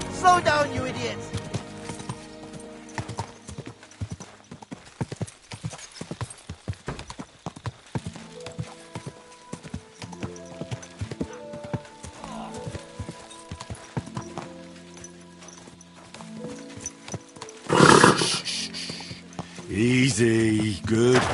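Horse hooves clip-clop steadily in Kingdom Come Deliverance 2, with a whinny bursting out loudly near the end over game music, while someone speaks calmly to the horse throughout.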